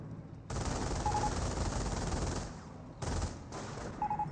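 Machine gun fire in the World War II strategy game Company of Heroes, sustained dense bursts that run continuously, break briefly, then resume, loud and close with no talk.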